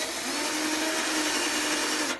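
A power drill spins a pocket-hole bit straight down into wood without a jig, a loud, steady high whine held for about two seconds before stopping abruptly.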